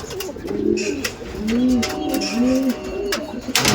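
Tournament-quality pigeons cooing close by in a repeated series of clear, rolling coos, steady and fairly loud against faint background noise.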